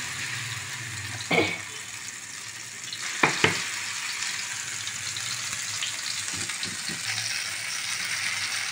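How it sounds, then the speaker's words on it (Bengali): Green peas tipped into hot oil for a Bengali pea stuffing, giving a steady broadband sizzle with a few clattering stirs and pan knocks near the start and middle, close by with no talk. "মটরশুটি, তেল গরম হয়ে গেছে, এবার এটা দিয়ে দেব।"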